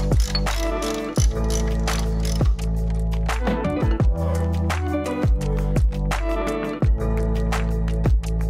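Rapid, loud ratchet clicks from a wrench tightening bolts during an Oliver Super 88 diesel tractor engine overhaul, in repeated bursts of pawl clicking with short pauses between strokes.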